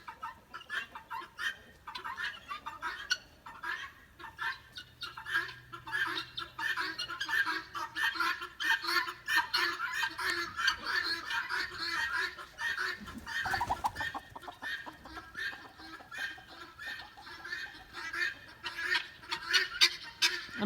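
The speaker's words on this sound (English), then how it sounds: "But the birds are going a little crazy now. They're going crazy, cackling." Chickens cackle and cluck excitedly, several birds at once in a busy, rising chorus, with a brief loud rustle partway through.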